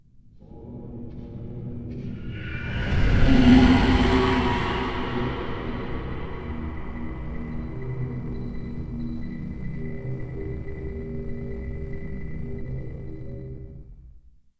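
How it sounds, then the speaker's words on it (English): A long, swelling reverb tail from a Black Hole reverb on an immersive Dolby Atmos audiobook mix, rising to a bright wash near the start and then sustaining as a dense, droning echo that fades slowly over about ten seconds. "there's a really nice long echo and tail to that entire event"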